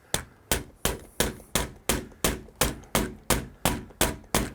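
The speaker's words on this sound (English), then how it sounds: "we want to hammer it with something" Hammer blows drive a door latch into place during an exterior home renovation, striking twelve times in a steady, evenly spaced rhythm, each hit sharp and close with a short ringing decay, no talking.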